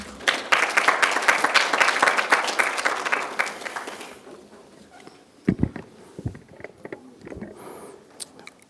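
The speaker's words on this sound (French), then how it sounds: "pour son allocution de clôture sous vos applaudissements" Audience applause for the closing address at the INGD2022 conference, given by the director general of Smart Africa. Dense, loud clapping fills about four seconds, then thins to a few scattered claps and faint room noise.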